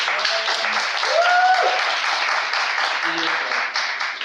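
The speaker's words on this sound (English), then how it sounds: "I think we deserve a round of applause for that." Audience applause at a company launch event held at a university, a dense, steady wash of clapping that fills the whole stretch, with a brief voice or tonal sound rising through it near the middle.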